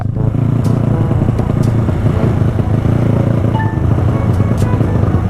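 A motorcycle engine with a stuck throttle runs loud and steady at high revs, a constant close roar with a rattling clatter. No one speaks.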